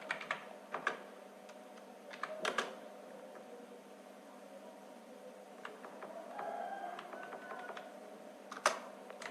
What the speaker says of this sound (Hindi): जैसे फिर हम लोग टाइप करते हैं कुछ, हम लोग करते हैं टाइप क्लास